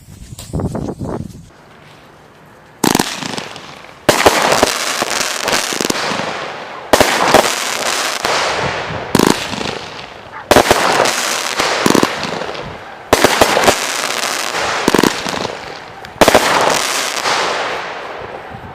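Warden fireworks cake firing outdoors, a long series of loud crackling bursts in repeated volleys separated by short gaps, each shot crisp and booming, with no talk.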